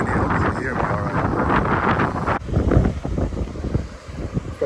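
Gusty coastal wind buffets the microphone at Point Mugu Beach, California, a loud, rumbling roar with surf faintly underneath, interrupted by a brief dip midway before the blustery noise resumes.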